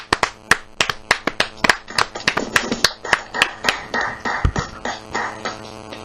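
Church congregation clapping in praise, many hands applauding in a lively, uneven burst that rolls on steadily and fades slightly toward the end.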